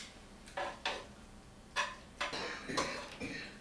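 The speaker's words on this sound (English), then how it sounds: "I'm going to toss it in the garlic oil that's there." Noodles in a warm pan with garlic oil are tossed in a few quick, irregular bursts of scraping and clinking, about seven short sounds spread unevenly, fairly quiet and close, with no voice.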